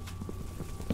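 Horse hooves clip-clopping in the video game Minecraft, quick soft thuds at an uneven pace close by over a busy, even game background.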